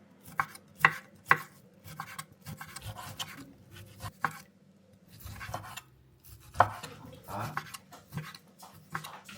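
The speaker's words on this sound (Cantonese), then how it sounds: "雞肉先切絲" A knife slices raw chicken into strips on a board, a series of sharp, uneven chops and taps up close with soft rubbing pauses between, heard alone in a quiet kitchen.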